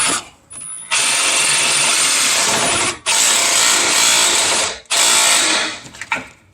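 An impact wrench driving a bolt to hold a part in place during a brake hose change, with three loud, close bursts of high whirring rattle separated by short gaps and a few small clicks after, no talk.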